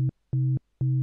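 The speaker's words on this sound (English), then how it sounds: "You can hear that we've got a bit more of a kind of chord sort of character there by just detuning that ratio a little bit." Three evenly spaced, identical bursts of an FM8 synth tone built from two sine operators with a 1.2 ratio detune, giving a slightly chordal, buzzy beeping quality; each note lasts about a quarter second with silence between.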